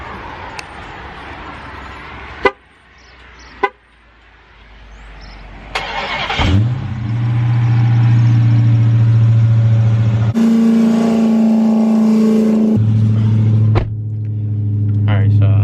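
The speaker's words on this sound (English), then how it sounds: "So I'm gonna give y'all this little cold start right fast" A Dodge Charger Hellcat Redeye does a cold start: a few clicks and thumps, then the supercharged engine fires with a sharp bark and settles into a loud, deep, steady idle with some revving, with someone talking beforehand.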